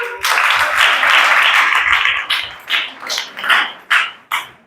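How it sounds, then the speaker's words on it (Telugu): An audience of children and adults claps for a girl in a dense, sustained burst of applause that thins into a few scattered, separate claps at the end. "తనకి క్లాప్స్ కొడదాం."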